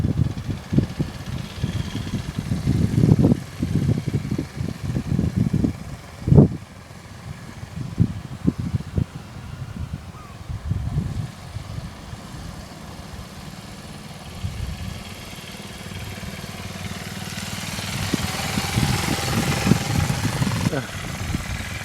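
A Sachs X Road 125 learner motorcycle rides slowly in second gear at low speed, its steady mid-pitched engine running throughout under near continuous talk, with a few louder bursts.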